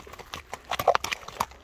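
Horse walked at a slow pace, hooves clip-clopping in an uneven run of sharp knocks at close range.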